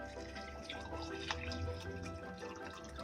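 Hot water poured from a kettle into a teapot, a steady continuous splashing stream of liquid throughout, close and moderately loud, with no talking.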